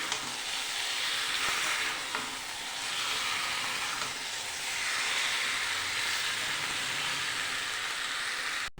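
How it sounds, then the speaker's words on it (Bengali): Meat being browned with spices in a pan, Bengali home-style, sizzles and hisses loudly and steadily with a few stirring scrapes, with no voices. "মাংস দিয়ে ভালো করে আমি কষিয়ে নেব।"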